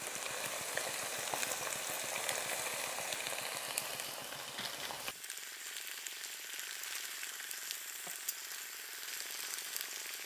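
Brown rice crust (nurungji) fries in hot oil with a dense, steady sizzle and crackle, close and continuous, with a brief change partway through and occasional stirring clicks and no talk.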